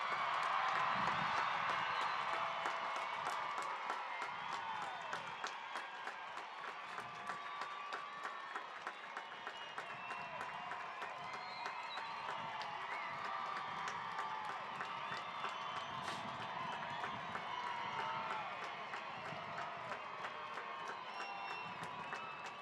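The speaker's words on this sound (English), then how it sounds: "Let's give them a big old round of applause" Graduation crowd at a 2022 high school ceremony applauding and cheering graduates, sustained clapping and shouts from a large audience heard at some distance, steady throughout with scattered voices.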